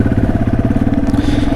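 Yamaha TW200 dirt bike thumping over rocky ground, its engine loud and close with a steady pulsing chug and clattering throughout.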